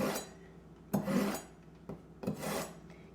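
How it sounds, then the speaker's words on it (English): A kitchen knife is sharpened with three close, rasping scraping strokes, each a short gritty swipe separated by brief pauses. "Quickly sharpen the knife."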